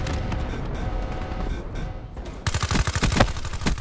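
Weevil submachine gun fire in Call of Duty Black Ops 3, a rapid loud automatic burst over the final second and a half, following a stretch of muffled game ambience.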